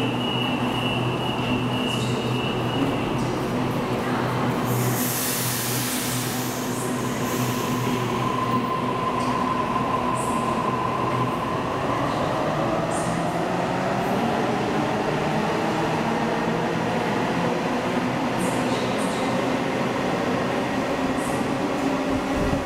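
A Sydney Waratah electric train pulls out of a station, its motor whine rising over rumbling wheels, with squealing and clattering of the carriages as it gathers speed, loud and close with no talking.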